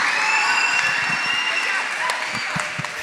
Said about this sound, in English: let's give a big round of applause for some amazing students